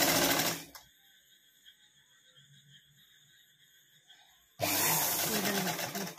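A sewing machine stitches frills onto an umbrella, running loudly in short bursts at the start and again at the end, with a quiet, faintly humming pause in between.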